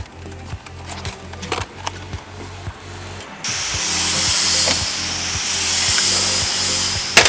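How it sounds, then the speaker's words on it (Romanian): An angle grinder whines loudly and steadily through the second half, after a stretch of rhythmic mechanical knocking and scraping at the start, during work on a flooded BMW 7 Series E38 engine. "Dar făcea flexul zgomot."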